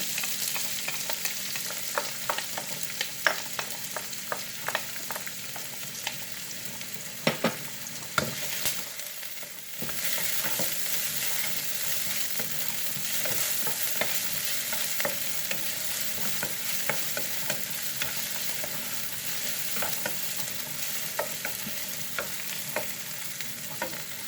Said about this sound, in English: we're going to saute all the rest of the ingredients